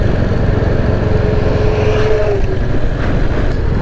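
A motorcycle climbs a mountain road toward Mirik, its engine droning steadily and close, loud throughout, with a faint tonal whine rising briefly partway through and no talking.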